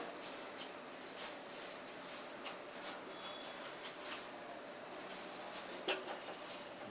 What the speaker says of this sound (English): Let me write down here